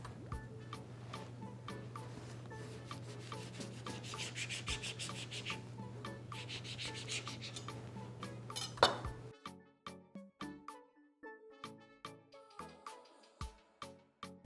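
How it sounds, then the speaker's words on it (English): A knife slices grape tomatoes into halves on a cutting board, with scraping and rubbing strokes under a steady hum, then sharper, evenly spaced chopping taps after the hum stops. "now we're going to cut our grape tomatoes into halves."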